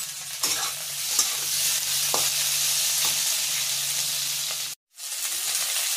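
Onions and tomatoes fry for a prawn curry, a continuous sizzle with scattered stirring scrapes and clicks, steady and fairly close, cut by a brief silence near the end.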